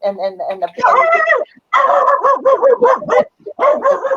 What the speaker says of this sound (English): Sorry, I have a dog.